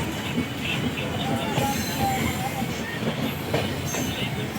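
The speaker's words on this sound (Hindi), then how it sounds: "तो हमारी ट्रेन निकल चुकी है जफराबाद से, जो कि बहुत ही स्लो रफ्तार में पास हुआ।" The Mau–Anand Vihar Express passing slowly on rails through a station, a steady rumbling roll of wagons with faint wheel squeals and clatter, heard close and continuous.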